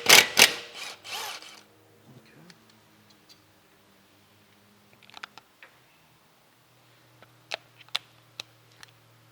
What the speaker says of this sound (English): So we're gonna go ahead and remove this bottom bolt right here from the caliper.